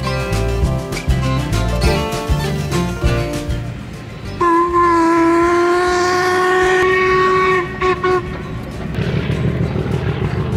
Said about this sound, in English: we're going to look at the Harry Potter bridge because there's a train coming over soon